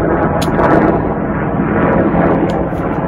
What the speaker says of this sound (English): Navy plane, a helicopter going over.